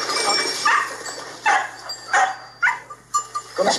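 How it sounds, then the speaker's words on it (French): A sheepdog working a grazing flock of sheep outdoors, with several short sharp barks or bleats in an uneven rhythm over a quiet low hum, fairly close. "Les moutons pâturent et le chien est derrière, leur lèche un peu les derrière et gère le troupeau tout seul."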